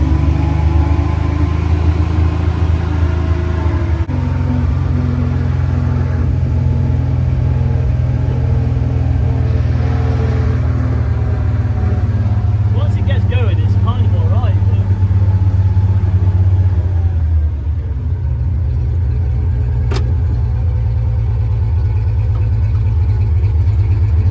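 Engine of a Dingo mini loader with a sticky throttle, droning steadily at close range, shifting pitch as it is revved while stationary and then sagging as if dying, with a low rumble throughout and possible voices.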